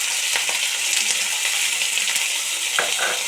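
Chopped onions hit hot oil in a wok, giving a loud, steady, close sizzle that holds evenly throughout with no voices.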